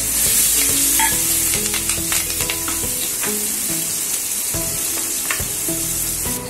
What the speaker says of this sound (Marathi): पण त्या जास्त तिखट नाहीयेत, म्हणून मी थोड्या तेलात टाकते